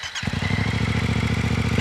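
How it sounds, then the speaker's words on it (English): A small motor with water added to it fires up after a brief pause, then settles into a loud, fast, steady mechanical chugging close by, with no talking. "And then you turn on the engine."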